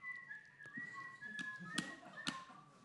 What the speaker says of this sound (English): So who can whistle and knows that?